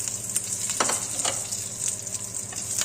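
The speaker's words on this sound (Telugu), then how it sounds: "వెల్లుల్లిపాయలు కొద్దిగా బ్రౌన్ కలర్ వచ్చేంత వరకు వేపుకోవాలి" Garlic, cumin, coriander and mustard seeds frying in hot oil for a tempering, a steady close sizzle with a few sharp pops and spatters and no talking.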